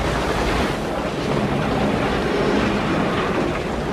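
Ocean waves along the Atlantic Road coast, a loud, constant rushing roar of surf that stays nearly level throughout, with no voices.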